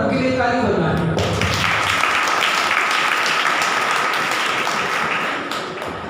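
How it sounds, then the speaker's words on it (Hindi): Church congregation at a Mangolpuri service clapping for the Lord: a loud, sustained wash of many hands clapping together, with voices mixed in, gradually thinning toward the end. "प्रभु के लिए ताली बजाएं।"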